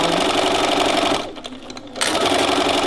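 A sewing machine stitches a tote bag in a straight seam, its fast close whirring running loud, cutting out briefly in the middle, then resuming.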